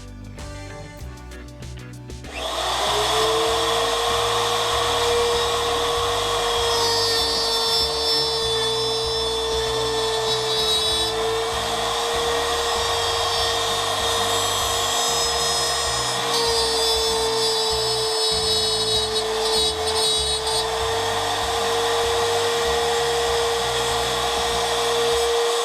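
A router starts up on a woodturning fluting jig and runs at a steady high whine for over twenty seconds, loud and close, with a slight pitch dip as it engages the wood.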